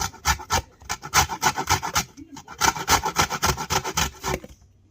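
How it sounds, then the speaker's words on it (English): Lemons rubbed against a grater for zest make quick, rhythmic rasping strokes, close and clear, in a steady scraping run with a brief pause in the middle. "For the lemon zest, I'm just going to be shredding some lemons."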